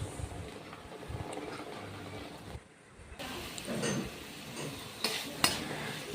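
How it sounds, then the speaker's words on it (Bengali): Spices for palak paneer stir-fry in a pan, giving a quiet sizzle under scraping and clinking from a spoon against the pan, with a short gap partway through and louder stirring afterward. "কিছুক্ষণ কষিয়ে নিয়ে নুন, হলুদ এসব দেব, দিয়ে আবার ভালো করে কষাবো"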